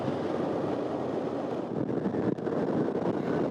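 Steady wind buffets the microphone while a scooter rides along a sandy desert road, a broad continuous roar with a brief dip midway and no voices.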